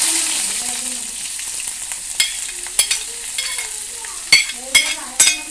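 Chopped ingredients for a Kerala-style chicken curry sizzle in a pan after mustard seeds have popped, a steady bright hiss with sharp crackles and stirring clatters, close and without talk.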